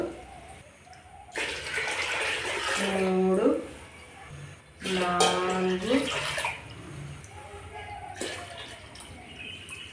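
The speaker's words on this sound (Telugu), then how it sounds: "నీళ్ళు పోసుకుంటున్నాం వన్ లీటర్ చెంబిది ఒకటి పోసేసిన" Water poured from a one-litre jug into a pot for thaalikala payasam, two steady, splashy pours a few seconds each, with a voice counting between and over them.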